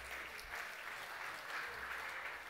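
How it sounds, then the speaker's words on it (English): An audience applauds Beryl Godfrey as she comes on stage at an evening award ceremony. The clapping is steady and dense, heard from a distance in a large room, with a faint crowd murmur under it. "Give her a round of applause."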